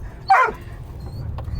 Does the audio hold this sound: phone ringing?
no